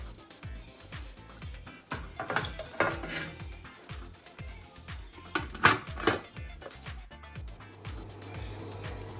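A cooking pot lid on a tajine-style casserole of meat and prunes clatters and scrapes as it is handled and lifted, with a few louder metallic clanks amid quieter kitchen rattles.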